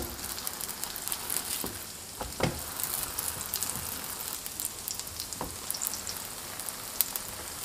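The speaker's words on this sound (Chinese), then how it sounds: "油热以后放入饼坯。" Dough flatbread frying in hot oil on a preheated griddle, a continuous fine sizzle with scattered sharper crackles and pops, close and steady with no talking.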